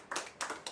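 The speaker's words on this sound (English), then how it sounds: "Let's clap for nurses first." An audience claps in short bursts at a nurses' event, with three brief spells of hand clapping separated by near-silence, moderately faint.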